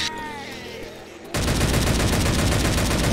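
Machine gun fire in Left 4 Dead 2 erupts after a brief quieter moment, a loud rapid burst of automatic shots rattling on continuously to the end.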